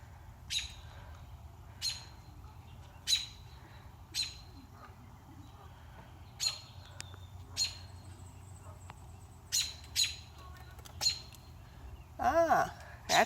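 Bird calling near its nest by a pond where baby geese are, giving sharp repeated chirps about once a second, with a louder squawking burst near the end over low background rumble.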